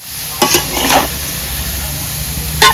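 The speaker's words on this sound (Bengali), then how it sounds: "এবার আমি টমেটোগুলোকে কড়াইয়ের মধ্যে দিয়ে দেবো।" Tomatoes sizzle in a kadai with no water added, a loud constant hiss punctuated by three bursts of scraping as a spoon stirs them against the metal.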